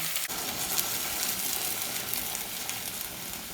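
Water poured into a pot of sizzling carrots and hard vegetables for chicken noodle soup, a sharp hiss at the start that settles into a loud, even, close sizzle.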